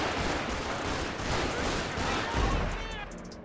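Rapid gunfire from a GTA 5 police patrol mod shootout with a gang suspect, a dense, loud continuous volley that keeps up for the whole stretch, with a heavy low boom near the end.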